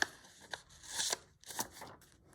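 Scissors snipping out a small fabric shape for a stitched bunting piece, a few close, quiet, crisp cuts with brief pauses between them.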